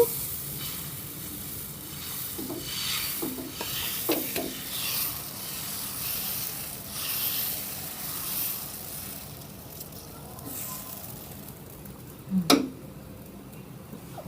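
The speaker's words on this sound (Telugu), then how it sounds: "మన దోశ పెనం వేడైందండి ఇప్పుడు దోశ వేసేసుకుందాం" Dosa batter sizzling on a hot griddle pan, a steady close frying hiss with faint stirring and scraping touches and one brief louder clatter near the end, with no talking.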